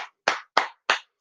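Bare hands clap close by in a slow, even rhythm, about five sharp claps with short silent gaps and nothing else heard.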